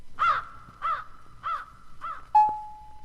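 A crow caws four times in an even rhythm, loud and close, followed by a sharp tonal ring that lingers and fades.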